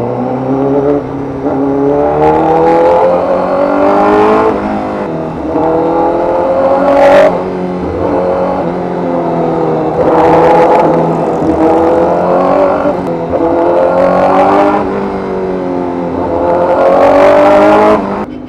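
A Honda CBR1000RR-R Fireblade SP motorcycle engine with a reflash, heard loud and close, repeatedly revving up and dropping back in rising and falling sweeps over a steady running rumble, with no talking.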